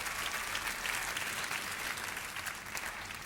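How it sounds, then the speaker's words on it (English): A theatre audience at a performance of a comic opera breaks into sustained applause, a steady, even roar of many hands heard from some distance. "I'm so happy that gets a big clap"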